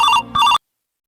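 A phone rings on an outgoing call, two short bursts of a bright electronic ringtone with a brief dip between them, close and clear, then it cuts to silence.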